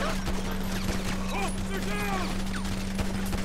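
Rapid bursts of gunfire in Grand Theft Auto V crackle over a steady low hum, while people talk excitedly throughout.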